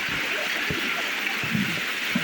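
Water tumbles down the stone step path at Sudhagad in a continuous close hiss, with a few soft splashes and gurgles rising above the flow.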